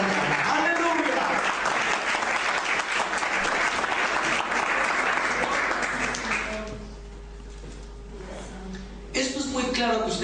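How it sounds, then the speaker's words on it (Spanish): A church congregation at a morning service bursts into loud applause for the Lord, which fades after several seconds before a preacher's voice resumes. "Den un aplauso al Señor en esta mañana."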